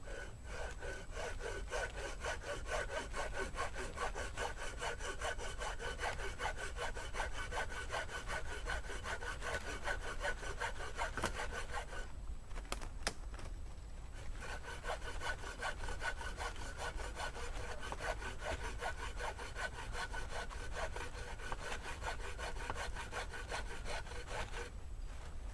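A homemade frame saw cuts through dry, stone-hard strawberry tree wood in steady, rhythmic back-and-forth rasping strokes, close and continuous, with a brief pause midway before the strokes resume.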